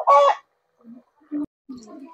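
Chickens cluck in a few short, separate calls close by, with a louder squawk at first followed by quieter clucks and pauses in between.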